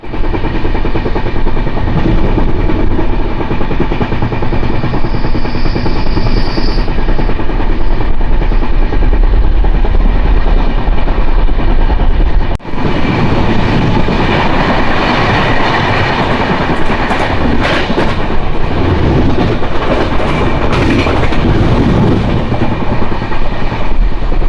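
Passenger train running at speed on the Konkan route toward Udupi, with steady loud rumble and rhythmic clickety-clack of wheels over rail joints, a brief jolt midway, no voices.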